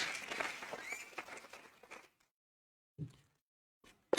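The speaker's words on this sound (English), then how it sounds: "Another round of applause for the speaker and the honourable members of the assembly" Conference audience at a miraa gathering applauding, a dense wash of clapping for about two seconds that fades to silence, followed by a couple of brief thuds.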